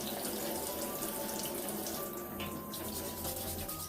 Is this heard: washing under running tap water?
yes